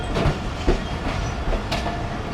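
The Millat Express rolls along the track in Pakistan while switching from a loop line back onto the main line, with rhythmic clickety-clack wheel beats over a steady rumble and no talk.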